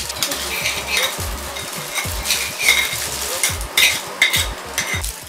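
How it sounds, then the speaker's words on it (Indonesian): Boiling passion fruit juice with sugar being stirred in a pot, with rhythmic scraping strokes, bubbling and light metallic clinks repeating steadily and close by, with no talking. "Lalu aduk hingga larut."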